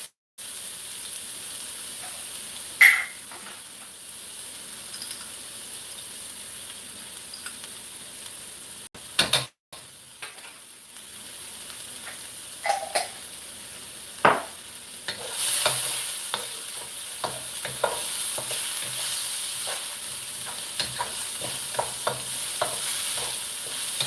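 Garlic fries with ginger and red onion in a hot pan, a continuous sizzle punctuated by repeated scraping and clanking stirs that grow busier and louder toward the end.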